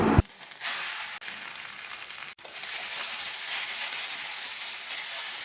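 Catla fish fat dropped into a hot wok of fried chopped onion and green chilli, a loud steady sizzle and hiss that carries on without a break, close by, with no talk.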